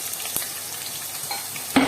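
Cumin and other spices spluttering in hot oil for a capsicum curry, a soft continuous frying hiss dotted with a few sharp pops, one louder crackle near the end.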